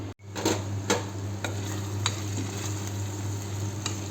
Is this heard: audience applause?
no